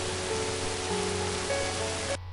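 Steady rain falls in the video game And Then There Were None, a dense even patter of hiss that holds constant and then cuts off abruptly near the end.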